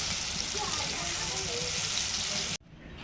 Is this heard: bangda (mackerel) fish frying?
yes